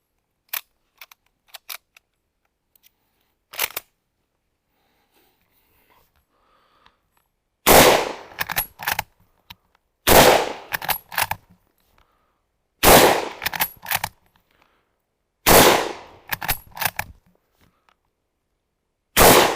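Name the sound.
reloading and firing Mauser-Vergueiro 1904/39 rifle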